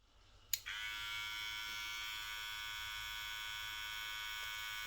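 Kemei or Ckeyin RC 446 hair clipper switches on with a click and runs at high speed, a steady, loud, high-pitched buzz held without a break, no talking.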